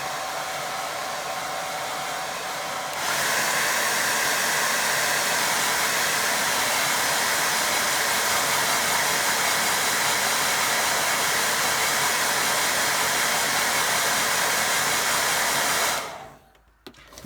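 A hair dryer on gentle heat blows over a watercolour painting of a fisherman, switching on after a quieter stretch into a loud, steady rushing whoosh that holds for about thirteen seconds before shutting off abruptly.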